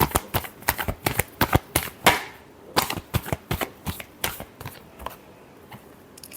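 Tarot cards being shuffled, a quick series of crisp riffling snaps and taps in irregular bursts, close and fairly quiet with no voices over them.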